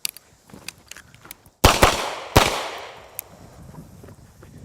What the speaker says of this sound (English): we move on the draw, plant, shoot, then move after we're done shooting